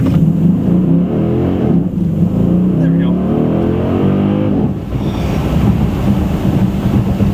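A 2009 Dodge Challenger SRT8 V8 engine roars and revs steadily up close as it accelerates, a deep rumble with a brief voice speaking over it.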